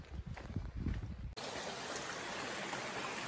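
A mountain stream on the Appalachian Trail flows steadily with a broad, hissing rush, loud and close, after a brief stretch of softer trickling and handling noise.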